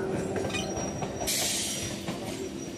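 A local train on the Sealdah–Naihati line rolls past with a steady rumble, metallic wheel squeal and faint clickety-clack, heard close and continuous with no talking.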